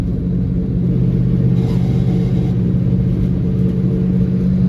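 A Chevy Nova runs with a bad noise from the rear end, making a loud, steady, low rumble that goes on without a break, heard close, with no talking.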